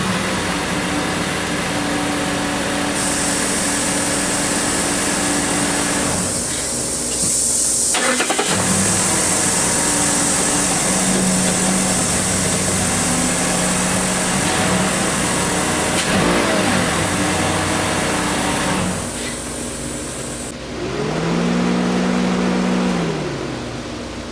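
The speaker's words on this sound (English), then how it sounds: "I'm going to start the vehicle back up." A 2013 Mazda car engine cranks, catches and runs steadily at idle nearby, with a brief rev near the end, heard alone without talk.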